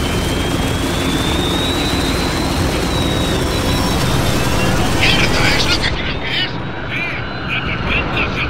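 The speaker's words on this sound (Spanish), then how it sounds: "cuántos helicópteros tiene?" A helicopter in the Spec Ops video game drones loudly and continuously, then cuts off abruptly. Sharper game effects follow, with a player's voice heard over the action.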